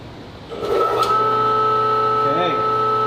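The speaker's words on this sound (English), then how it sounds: "pretty quick startup for this motor. We're running at full speed." An AC machine motor kicks on and spins up quickly to full speed, a steady loud hum with stable harmonic tones settling in after a brief rising whine; a voice speaks faintly underneath.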